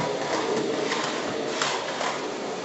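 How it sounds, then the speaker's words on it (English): A Eureka WhirlWind bagless 2.5L canister vacuum cleaner runs steadily with a dense, even rushing whoosh, punctuated by a few faint clicks and taps of debris, close and alone. "I'm really impressed with the powerful suction this vacuum has."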